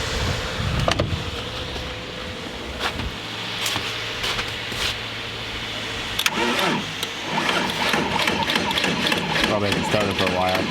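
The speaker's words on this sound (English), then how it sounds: "Got a car, jumper cables, the old-fashioned way. See what happens." A 2007 Porsche 911 Carrera engine, jump-started with jumper cables, cranks and catches partway through, settling into a steady running rumble, with voices talking over it.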